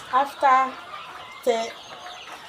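Two-week-old poultry pullets on starter feed cluck in several short bursts close by, with brief pauses between calls and a voice speaking over part of it.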